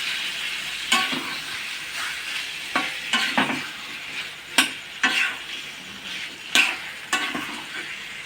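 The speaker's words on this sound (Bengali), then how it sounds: "এবার আমরা গ্যাসটাকে আঁচটা কমিয়ে অল্প অল্প করে নাড়িয়ে ভাজবো।" Vegetables for a ridge gourd curry stir-frying in a pan over a low gas flame, a steady soft sizzle broken by about a dozen scraping stirs of the spatula at irregular intervals, close and alone without talk.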